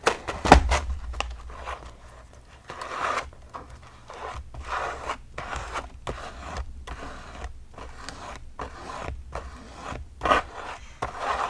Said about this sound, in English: So I'm just taking the palette knife and scraping the texture through the stencil.